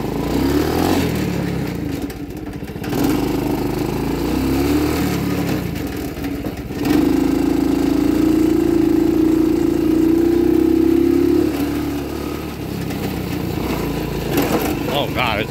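An old tiny lawn mower fitted with a swapped-in 110cc motor runs close by, its engine buzzing and revving up and down, with a louder sustained rev in the middle and people talking over it.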